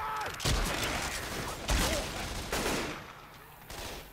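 Shotgun blasts in the co-op zombie shooter Left 4 Dead 2, several sharp, loud shots spaced about a second apart over a busy game background.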